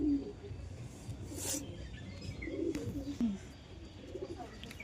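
Pigeons coo softly in low, rolling bursts, with a few faint flutters and rustles nearby in a quiet space.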